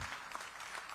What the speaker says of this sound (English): A thunderous round of applause, ladies and gentlemen.